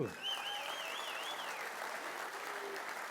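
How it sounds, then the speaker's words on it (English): A hall-of-fame induction audience at a boxing ceremony breaks into sustained applause, a dense even wash of clapping that holds steady throughout, with a faint whistle-like tone rising and wavering early on. "Great round of applause for Cortez."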